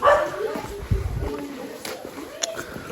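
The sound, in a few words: dogs barking at Manakamana temple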